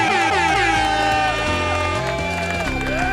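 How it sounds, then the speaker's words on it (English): Several blaring air horn blasts, a stepped series of loud harmonic honks played as a celebratory sound effect, with faint crowd-like noise underneath. "We can do the air horn."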